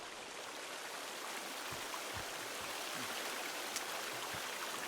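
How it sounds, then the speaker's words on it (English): A waterfall in the video game Sons of the Forest gives a steady, broadband rushing hiss of falling water that holds constant throughout, with a few faint low thuds beneath it. "I thought that waterfall was a little loud, so I didn't want to talk through it."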